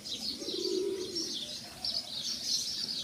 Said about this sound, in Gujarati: કબૂતર ચરે છે.